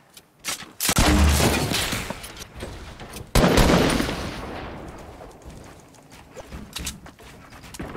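Rapid bursts of gunfire from a Fortnite match, with two loud volleys near one and three and a half seconds followed by scattered lighter shots as the noise tails off.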